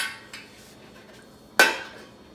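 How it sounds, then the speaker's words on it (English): A metal lid is set onto a cooking pot of warm milk for goat cheese, giving one sharp close clank after a faint earlier tap, then quiet. "And on goes the cover."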